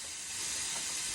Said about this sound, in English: this is when I remove the weight to release the rest of the steam